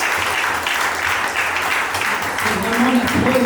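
Guests applaud the couple at a civil wedding ceremony, sustained clapping that holds steady under a voice speaking over the room.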